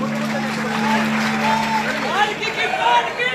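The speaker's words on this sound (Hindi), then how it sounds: "जोरदार तालियों से स्वागत करें" Loud, sustained audience applause fills a devotional kirtan gathering, dense clapping with crowd murmur and a voice heard over it, continuing steadily throughout.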